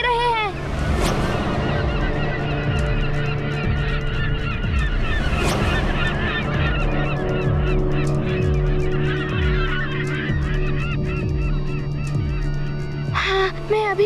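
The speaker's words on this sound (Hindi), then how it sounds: "वो देखो, वहाँ पे पक्षी दिखाई दे रहे हैं।" Geese-like birds honk over and over, a busy loud chorus of overlapping calls above a low steady hum and a string of rhythmic low thuds.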